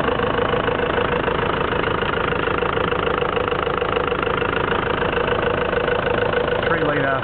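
The 3-litre turbo diesel in a 2000 Isuzu Bighorn Plaisir Long idles steadily and close by, with an even, continuous rattling hum.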